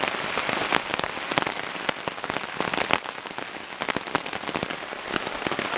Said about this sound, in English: I guess they were right. Lots of rain.